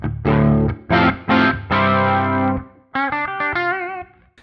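Electric guitar played clean through an EarthQuaker Plumes boost into a Roland Jazz Chorus amp: a few strummed chords ringing, followed by a brighter picked phrase, close and unaccompanied.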